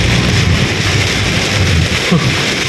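Heavy rain pours down during a storm in Bangkok, a loud, dense, continuous hiss of rainfall with a low rumbling undertone, close and unbroken, with no talk.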